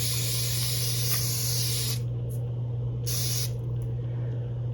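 Avene facial mineral water spray hissing from an aerosol can in bursts, a broad steady spray with two short pulses, heard close over a constant low electrical hum.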